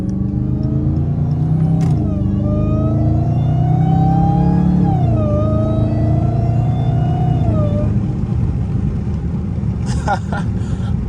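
A Dodge SRT Hellcat pulls out onto the road at night, its engine droning steadily and rising in pitch as it accelerates, loud and close from inside the car, with a brief shift dip partway through.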